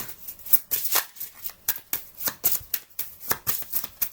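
Oracle cards are shuffled by hand in quick, rhythmic riffling bursts, close and crisp, repeating steadily with no one talking.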